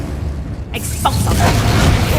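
An Expulso spell going off in Hogwarts Legacy, a sudden booming blast with a sharp pop followed by a rumbling, crackling tail that stays loud to the end.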